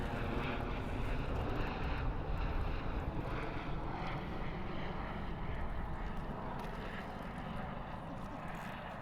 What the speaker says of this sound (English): as we have helicopters flying overhead.